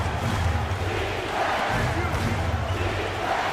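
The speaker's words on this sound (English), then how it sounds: "The crowd is on edge." Basketball video game crowd noise, a steady dense roar of an arena audience tense late in a close game, loud and continuous throughout.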